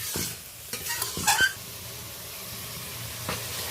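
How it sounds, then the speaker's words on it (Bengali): Okra and prawn masala fried and stirred in a pan, a soft continuous sizzle with a few scraping strokes of a spatula clustered early, then steady frying noise. "তেল ছাড়া পর্যন্ত 2-3 মিনিট ধরে ভালো করে কষিয়ে নেব।"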